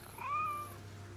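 A cat in the game Assassin's Creed Mirage gives a single short, rising-then-falling meow, fairly faint over a low steady background hum.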